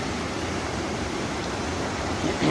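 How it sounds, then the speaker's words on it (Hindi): A mountain waterfall in Wild Basin in the Rocky Mountains roars with a steady, broad rushing wash of falling water, close and constant with no voices over it. "डबल साइड में ये झरना बह रहा है, एक इधर से और एक उधर से।"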